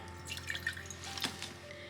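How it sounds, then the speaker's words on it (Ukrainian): Vinegar pours and drips into a glass jar, quiet and close, with small splashes and a thin trickle, no voices. "Беремо банку, трошки оцету. Наливаємо."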